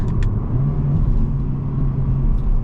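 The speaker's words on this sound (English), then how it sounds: "this car actually accelerates really quick." A Mazda CX-3's engine hums with a steady low rumble from inside the cabin while accelerating, smooth and continuous with faint road noise.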